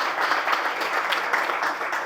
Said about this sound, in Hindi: जोरदार तालियां हम इनके लिए बजाएंगे